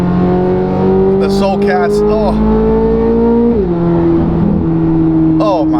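A C8 Corvette Z06 engine revs loudly and close, its strong steady harmonic tone rising through the rev range, then dropping with an upshift and holding, while excited voices talk over it.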